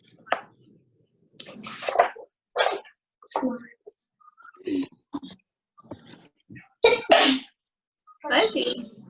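A single sneeze bursts out during a printmaking class, among quiet talk and small clicks and taps of carving work nearby.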